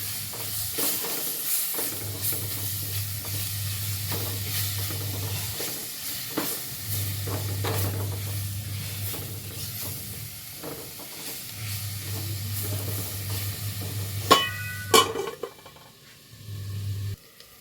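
Tomatoes sizzle and crackle in a hot pan while being stirred for a roasted-coconut papaya curry, a steady frying hiss with scraping stir noises and a low hum underneath, near and fairly loud, pausing briefly between stirs.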